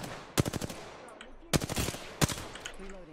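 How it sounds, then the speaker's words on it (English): Automatic gunfire in the battle royale game Apex Legends comes as three sharp bursts of rapid shots, loud and close, with short gaps between them. "We're getting shot at."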